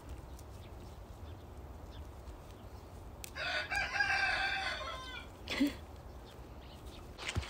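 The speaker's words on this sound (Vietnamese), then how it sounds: "mọi người nghe tiếng gà gáy không?" A rooster crows on a farm in Korea, one clear call rising mid-clip at moderate distance over a steady outdoor background, with a few brief clucks and noises around it.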